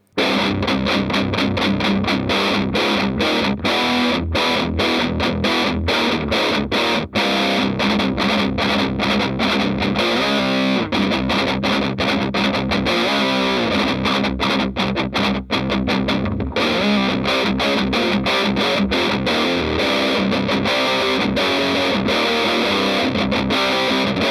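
Heavily distorted electric guitar on the bridge pickup through a high-gain Marshall 2266C amp, dense chugging riffs and sustained crunchy chords, loud and continuous with no talking.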